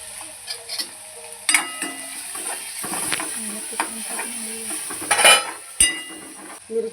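Hot oil sizzling in a pan while frying garlic greens for a home-cooked vegetable dish, a steady close hiss broken by spoon stirs and clinks against the pan, with occasional brief voice.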